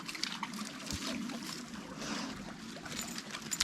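Clean water trickling through a squeeze water filter outdoors in the mountains, a soft, continuous splashing dribble with small irregular drips, close and fairly quiet.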